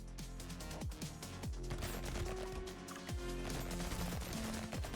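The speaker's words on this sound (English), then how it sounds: "It's almost like a shotgun blast" Rapid SMG gunfire in the video game Brotato: dense, overlapping bursts of synthetic shots and impact pops, loud and continuous over a bass-heavy game soundtrack.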